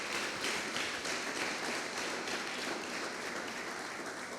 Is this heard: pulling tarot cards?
no